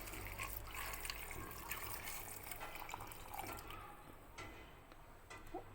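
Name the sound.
water being poured into a pot for fish soup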